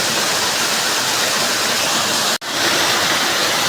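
Waterfall at Dongarpadar, a loud steady roar of falling water filling the scene, with one brief dropout in the middle.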